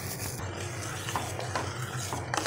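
A spoon stirs sugar and cardamom powder into boiling milk in a pan, close, steady scraping and swishing strokes repeating over a low bubbling hiss, with no talking.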